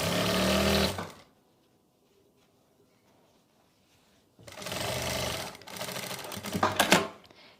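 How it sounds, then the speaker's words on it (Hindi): A sewing machine stitches a seam on a Punjabi Patiala salwar, running in two loud, close bursts of rapid mechanical whirring separated by a few seconds of near silence. "इसी तरीके से हम दूसरी तरफ सिलाई लगाएंगे। जहां से भी हम सिलाई स्टार्ट करें वहीं से हमें सिलाई को पक्का कर लेना है।"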